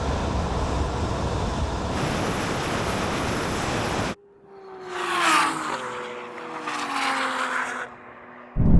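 Drag-race launch of a 900 hp Porsche 911 Turbo S, a 1000 hp Audi R8 and a 1000 hp Nissan R35 GTR: a loud, steady engine and wind roar, then a sudden cut to distant rising whines and revs with audible gear changes.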